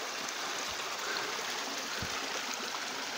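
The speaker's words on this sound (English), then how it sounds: "That's a nice wee waterfall though." A small waterfall splashing and rushing steadily nearby over stones, a continuous bright hiss of falling water with no voices.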